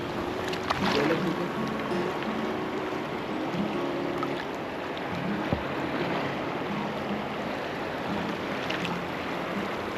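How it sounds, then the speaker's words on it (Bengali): A mountain river rushes over stones in Harshil Valley, Uttarakhand, as a steady, broad roar of flowing water that stays constant and close with no talking. "নদীর আওয়াজটা ফিল করুন আমি কিছুক্ষণের জন্য আমার কথা বন্ধ রাখছি শুধু আওয়াজটা শোনানোর জন্য"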